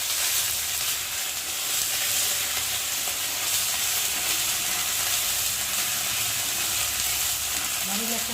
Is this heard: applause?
no